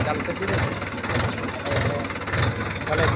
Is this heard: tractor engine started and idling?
yes